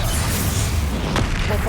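A Confringo fire spell blasts in the video game Hogwarts Legacy during a fight with a troll, making a loud, sustained roaring burst that fills the whole moment. A voice shouts over it.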